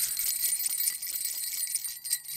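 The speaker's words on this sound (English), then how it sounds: "Oh, it's a bell!" A bell rings in a Guild Wars 2 PvP match, a bright metallic shimmer sustained for a couple of seconds, moderately loud and with no talk over it.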